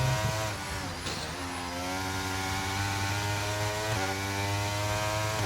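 A high-revving Formula 1 race car engine during a lap in the F1 23 video game, steady and loud, with its pitch shifting as the car accelerates and changes gear.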